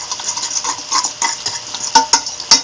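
A fork whisking herb dressing into rice noodles for a hot veggie salad, giving quick irregular scraping and clinking strokes against the bowl, close and clear with no voices.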